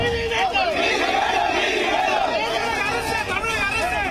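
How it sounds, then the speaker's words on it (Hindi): Street crowd in Perambur, Tamil Nadu, shouting slogans against the police, a dense, loud mass of voices chanting and yelling together with steady crowd babble throughout. "सड़क पर लोगों की भीड़ और पुलिस के खिलाफ नारेबाजी"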